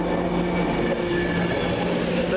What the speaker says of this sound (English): as we welcome the Virgin train service from Preston to London Euston